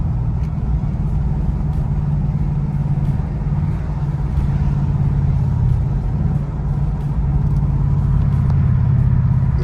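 A Ford Mustang GT with a Valvetronic exhaust running in quiet mode, a steady low engine drone heard from inside the car, continuous and subdued throughout.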